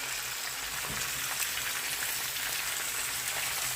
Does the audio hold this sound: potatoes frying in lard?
yes